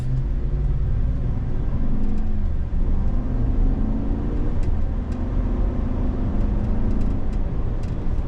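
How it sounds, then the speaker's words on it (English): A 2023 Chevrolet Silverado ZR2 pickup on all-terrain tires pulls away, its engine a steady low rumble and whir that climbs gently in pitch as the truck gathers speed. "now we're going to take off"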